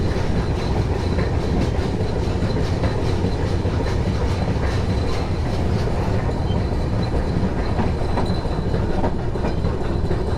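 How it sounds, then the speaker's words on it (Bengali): Rupashi Bangla Express rumbling steadily into Narail station, a continuous loud rolling roar with rhythmic wheel clatter and faint rail squeal running throughout, no voices. "কিছুক্ষণের মধ্যে ট্রেনটি থামবে আর এই স্টেশনটির নাম হলো নড়াই"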